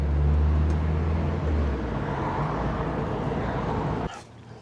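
Steady broadband road rumble inside a van with no sound deadening, heard continuously at close range during a test drive, dropping to a quieter hum near the end.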